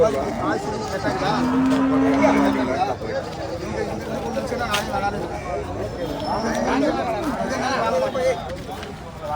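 Cattle moo at the Pochampalli cow market in Krishnagiri, with one long, clear low call near the start and more lowing later, set against a steady babble of crowd chatter and nearby talking.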